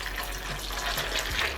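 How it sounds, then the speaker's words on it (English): Tap water runs steadily into a bowl of dry soya chunks, a continuous close splashing hiss with no voices. "Empty the soya into a bowl, and then using tap water,"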